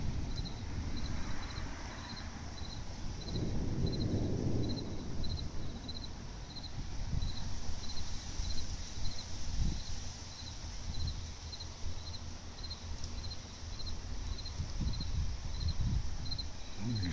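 Crickets chirp outdoors in a steady, faint rhythmic pulse as a storm approaches, with gusts of wind and low rumbles rising and falling beneath.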